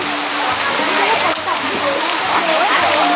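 Rain pours steadily on an outdoor plant market at Khao Chi On in Sattahip, a loud, continuous wash of patter and splashes with voices speaking over it.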